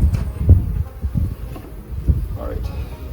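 Bees buzzing around an open backyard beehive, a low droning hum close to the microphone, rising and falling with passing insects and some wind rumble.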